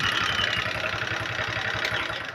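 A small Yamaha Mio-carbureted KTM scooter engine idles steadily nearby, a continuous rapid putter with a faint knocking rhythm.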